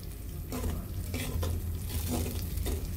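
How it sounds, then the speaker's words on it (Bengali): Sugar for a sweet-sour jujube pickle is stirred with a spatula in a pan, a continuous close scraping with rhythmic strokes under a soft sizzle, no speech. "চিনিটা গলার আগ পর্যন্ত এভাবে খুন্তির সাহায্যে চিনিগুলো নাড়তে হবে।"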